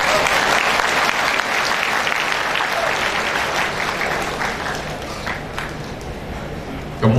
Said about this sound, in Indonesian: Tepuk tangan lagi boleh